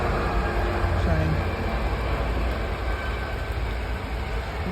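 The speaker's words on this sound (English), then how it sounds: "Train." A train rumbles past a canal with a broad, steady roar of wheels and cars, fairly close and continuous, with faint voices underneath.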